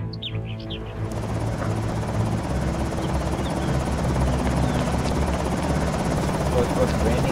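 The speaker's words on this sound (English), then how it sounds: "So it's both raining and a helicopter." A helicopter's constant rotor drone fills the scene in the video game Project Zomboid, loud and steady, with rain, faint chirps at the start and a voice speaking over it.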